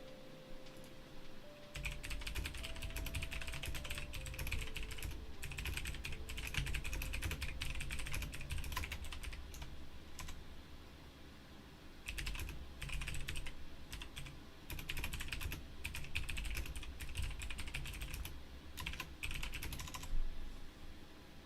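Rapid, continuous typing on a computer keyboard, dense clattering keystrokes in bursts with a brief pause midway, close and clear with no talking.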